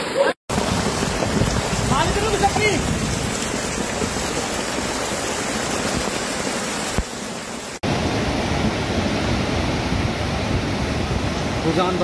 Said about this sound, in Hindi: पानी का जो है बहाव बहुत तेज हो चुका है, पूरा श्यामपुर क्षेत्र तहस नहस